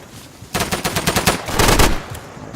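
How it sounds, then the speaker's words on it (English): Rapid machine gun fire from a dug-in MG position in the World War II shooter game Day of Infamy, a loud dense burst of closely spaced shots lasting about two seconds, with no talk. "There's somebody dug in right there with an MG."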